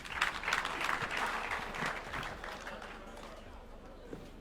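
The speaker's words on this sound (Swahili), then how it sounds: "Tumpigie makofi Mheshimiwa Rais." An audience applauds the president after his speech at a formal event, a moderate wash of clapping that fades over a few seconds while a voice speaks over it.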